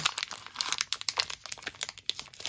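Knife slicing a large block of ivory polymer clay, a quick run of close, crisp crackling cuts and small sticky snaps, with no voices.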